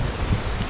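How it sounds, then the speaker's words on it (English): Steady wind gusting through a valley in Westland's front country, a broad rushing roar buffeting the microphone with no voices. "it's really windy through here,"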